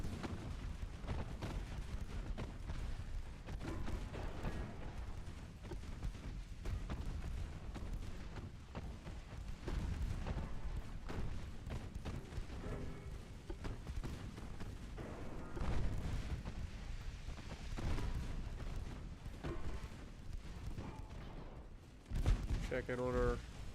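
Naval guns on light cruisers thunder in a war video game, with repeated booming salvos and rumbling blasts spread through the scene, mixed under someone talking.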